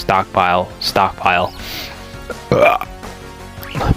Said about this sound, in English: Don't mind the burp.